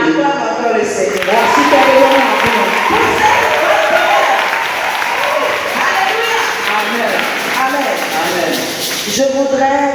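A church congregation claps at a women's seminar service, sustained applause filling the room for several seconds, loud and close, mixed with a crowd of voices and cheering.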